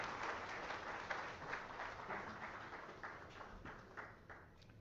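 An audience at a book launch ceremony applauds steadily for several seconds, a dense wash of claps that fades slightly toward the end, with no speech.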